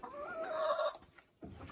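Chickens and a rooster clucking together in a farm coop, a close busy run of fowl calls that drops away briefly before the clucking picks up again.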